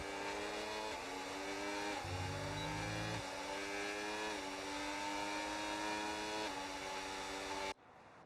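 Ferrari race cars in a racing video game, running a Japanese Grand Prix, scream past at high revs with a steady, sustained engine note and clear upshifts. The roar cuts off abruptly near the end.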